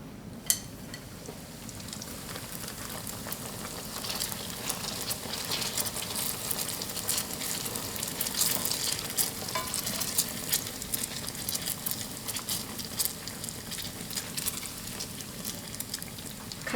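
Flatbread dough made from flour and water fries in hot oil, giving a continuous crackling sizzle with fine popping bubbles, moderately loud and steady with no talking.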